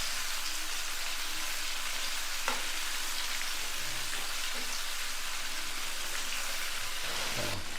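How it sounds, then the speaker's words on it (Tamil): Cheesy chicken poppers deep frying in oil over a medium flame: a steady, dense crackling sizzle, close and even throughout, with a couple of brief clinks near the end and no voices. "ஒரு மீடியம் ஃப்ளேமில் வச்சு ஒரு 5 to 7 நிமிஷம் இதை ஃபுல்லாக எல்லாத்தையுமே ஃப்ரை பண்ணி எடுத்துக்கணும்."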